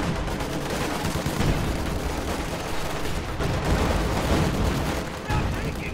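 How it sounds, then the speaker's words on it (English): Continuous booming and crackling of a high-explosive artillery barrage in a World War II tank-and-infantry strategy video game, dense rolling blasts filling the whole stretch at steady loudness with faint commentary voice underneath. "High explosive barrage going off here."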